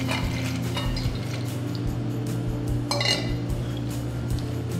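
Almonds being mixed into cantuccini dough with a spoon in a bowl, with scattered light clinks and scraping over a steady low hum.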